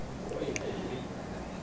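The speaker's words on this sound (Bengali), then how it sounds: "এরপরে যে 3টা কবুতর দেখতে পাচ্ছেন" Pigeons kept for sale in Bangladesh give soft, low coos over a faint, steady background, with a few short higher chirps early on.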